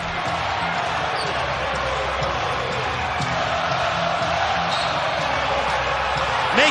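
Home crowd at a Miami basketball game, a broad steady roar of cheering that fills the arena and swells slightly near the end, with bouncing basketballs audible beneath it.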